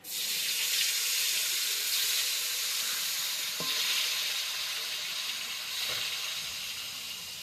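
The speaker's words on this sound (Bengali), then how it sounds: "তা তেলটা গরম হয়ে গেছে, এখন আমি মাছটা দিয়ে দেবো।" Pieces of rita fish dropped into hot oil, a loud, steady hissing sizzle with a couple of faint clicks, close up and continuous without speech.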